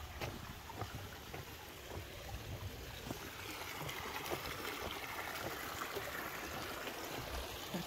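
Flowing water of the Winhall River in Vermont, a steady close hiss and babble of the stream with small splashy ticks, continuous and fairly even throughout.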